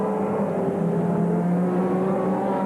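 Touring race cars at Amaroo Park in the 1991 ATCC round, a loud sustained engine drone with a steady pitch rising slightly as cars run side by side, heard alone without talk.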